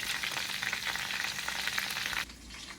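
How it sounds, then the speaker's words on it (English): Steady, loud crackling sizzle of cheese and beef ravioli frying in hot oil, close up and continuous, cutting down to a quieter hiss near the end. "I finished frying up our cheese and our beef raviolis"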